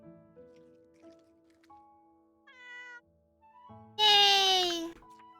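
A cat gives one loud, close meow with a falling pitch near the end, following quieter scattered electronic tones and soft background sounds.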